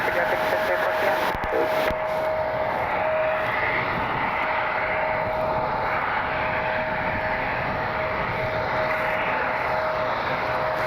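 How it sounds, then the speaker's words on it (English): An Embraer E175 jet at Cleveland Hopkins airport gives off a steady, continuous engine drone at moderate distance, holding an even level throughout with a faint whining tone. "Flight 6207, E175 heading to Dulles."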